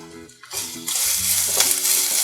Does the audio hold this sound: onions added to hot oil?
yes